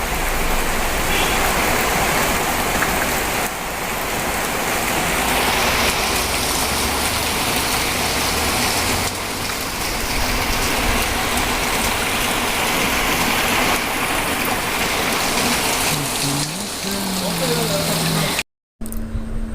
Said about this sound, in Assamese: এতিয়া বৰষুণটো অলপমান আহিছে